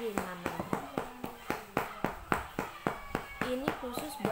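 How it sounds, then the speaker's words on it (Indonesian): A parent rhythmically pats a small child's back to loosen phlegm from a wet cough, giving a steady series of soft, close hollow thumps about three per second while a voice talks over them. "Ini tepuk punggung kayak gini selama 5 menit ya"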